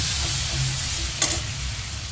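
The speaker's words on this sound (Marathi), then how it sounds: "हे मिरची बारीक करून घेतलेली टाकूया छान असा परतून घेऊया" Finely chopped green chillies and curry leaves sauté in a hot pan with mustard seeds and cumin for a bottle gourd dish, giving a loud, dense, continuous sizzle with a brief stirring scrape near the middle.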